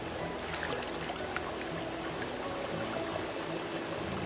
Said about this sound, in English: this is water that's running in the streams outside, and it originates as glacier water